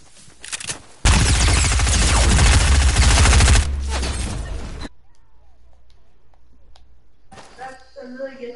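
Heavy automatic gunfire in a first-person shooter video game, a loud sustained burst of rapid shots lasting a few seconds, followed by quieter game sounds, with brief talk before the burst.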